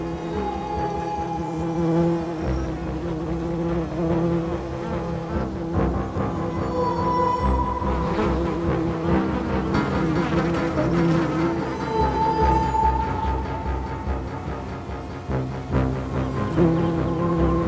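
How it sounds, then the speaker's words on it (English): Female bee flies hovering over bee nest chambers make a continuous buzzing drone that carries through the whole stretch at a steady level. "After the bees have gone, the flies move in. They hover over the bee chambers, take aim, and fire."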